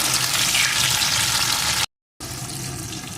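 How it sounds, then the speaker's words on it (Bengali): Potato pieces and chopped tomato fry loudly in a pan for a vegetarian panch phoron spiced dish, giving a dense continuous sizzle close by that cuts out briefly to silence before resuming. "আলুর টুকরোগুলো সুন্দর করে ভেজে নিয়ে এর ভিতরে দিয়ে দেবো একটা টমেটো কুচি টমেটো কুচিটাও একটু ভেজে নেব"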